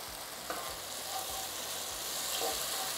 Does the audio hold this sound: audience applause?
no